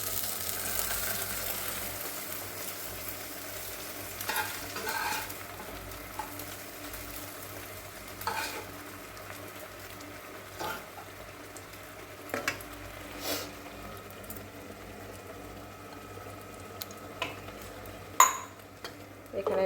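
Amodi fish fry in a pan with a quiet, low sizzle, while occasional stirs and sharp clinks of a utensil against the pan come through at irregular intervals.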